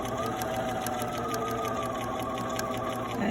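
Home sewing machine running steadily while stitching fabric pieces together for an eyeglass case, a continuous close whirring hum with rhythmic needle ticking, alone and without talk.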